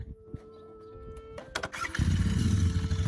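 A Royal Enfield motorcycle engine is cranked and fires up, then settles into a deep, steady thumping idle, close and alone.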